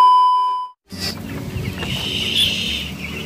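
A brief electronic tone cuts off, then a flock of 16-day-old broiler chickens in a farm of about 8,000 birds clucks and chirps nearby in a steady, busy chorus.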